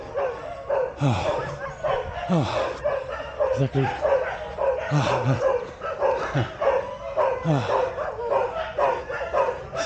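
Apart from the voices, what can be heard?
dog barking on a mountain top in Thailand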